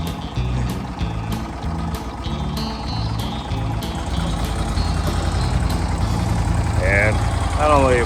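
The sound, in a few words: longtail mud motor on a boat running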